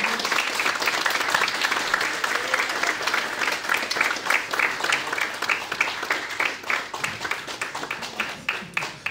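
An audience at a live YouTube evening show bursts into applause for a guest's entrance, loud dense clapping that gradually settles into a more rhythmic, pulsing pattern over about nine seconds.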